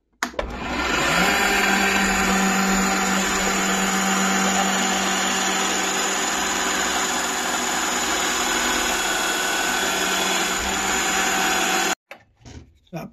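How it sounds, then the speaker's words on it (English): A power drill spins a nail used as a drill bit, whining loud and steady for about eleven seconds before cutting off abruptly, followed by a few knocks. "that means using a nail as a drill bit."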